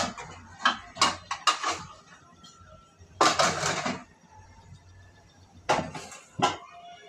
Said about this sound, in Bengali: এখন এটা আমি ঢেকে দিব